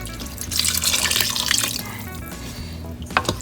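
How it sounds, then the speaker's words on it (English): Water poured from a vessel into a sausage stew in a cooking pot, a steady splashing trickle that fades near the end, followed by a couple of faint drips, with no talking. "And now here comes the water."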